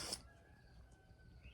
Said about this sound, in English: You can hear the chickens.